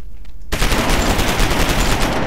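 A basic weapon firing in the Starforge alpha video game, a sudden loud burst of rapid repeated shots starting after a short quiet moment and continuing without a break.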